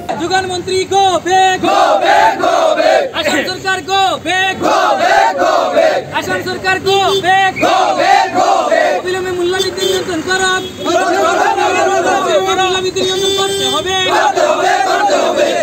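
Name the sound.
protesters chanting slogans at a rally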